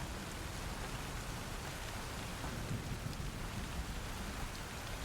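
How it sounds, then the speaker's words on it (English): Mellow rainfall in the video game Satisfactory, a soft, even hiss of rain on surfaces held at a low, steady level with faint low rumbles and no talking. "I love the rain in the game too"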